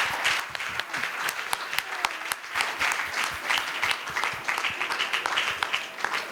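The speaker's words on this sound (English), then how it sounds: "Everyone give Gifty a big round of applause." A hall audience at a women's conference gives Gifty a big round of applause: dense, steady clapping from many hands, loud and close, lasting throughout with no talk over it.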